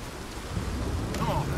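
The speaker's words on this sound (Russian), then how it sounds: "И опять дождь. Прям гроза." Steady heavy rain with a rumbling thunderstorm in the Red Dead Redemption 2 video game, a dense continuous wash of close downpour under a low roll of thunder.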